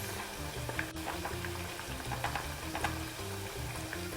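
Moroccan chicken sauce with sugar and olives simmers and reduces in a pot, giving a steady, close bubbling sizzle with a few soft stirring scrapes and no voices.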